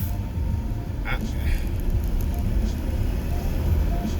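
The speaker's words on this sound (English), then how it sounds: "lots of car noises" Steady low road rumble and tyre noise from inside a moving car while driving, constant throughout with faint voices in the background.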